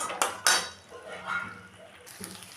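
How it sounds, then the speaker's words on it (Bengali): Peshawari chicken being stirred with yogurt in a pan, a few sharp metal clinks of a spoon against the pan followed by softer scraping and stirring, close and fairly quiet. "দই দিয়ে ভালো করে কষিয়ে নিলাম।"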